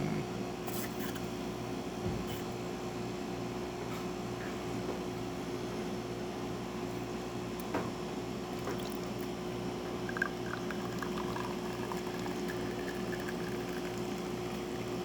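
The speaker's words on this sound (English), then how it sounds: "starting with one shot of espresso, we're gonna test this machine" Espresso machine on a tune-up bench pulling a single shot, a steady pump hum with a constant drone and faint gurgling and dripping running unbroken throughout, close and fairly quiet with no talk.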